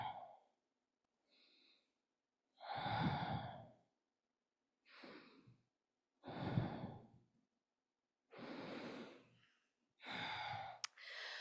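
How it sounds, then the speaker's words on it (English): Slow, deep breaths taken while resting in a yoga pose, with about five long inhale-exhale bursts spaced by silent gaps. The breathing is close, soft and heard alone. "Rest here, deep breathing for a moment."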